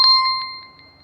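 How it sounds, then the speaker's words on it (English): An alarm sounds as a single bright electronic chime, a clear ringing tone that strikes sharply and then fades away over about a second in a quiet room. "Okay, yes, that was the alarm."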